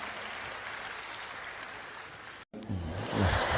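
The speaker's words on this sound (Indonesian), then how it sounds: "Tepuk tangan buat rektor kita tercinta" An audience applauding for a university rector, a steady wash of clapping from a crowd that breaks briefly near the end as a voice starts speaking.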